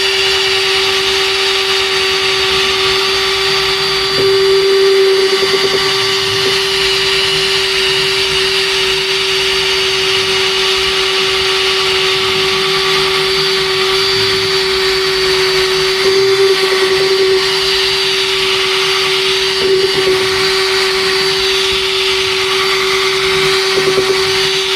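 A power tool cleans rusty bolt threads on a truck air tank during a Benson 524 flatbed trailer repair, giving a steady, loud, high-pitched whine with a constant tone, briefly loading up a few times, with no talking.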